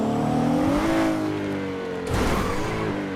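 A car in the driving game RedlineRP, noted for its mad acceleration and poor braking, revs up through rising engine tones, shifts, then climbs again. The engine is loud and close and plays alone.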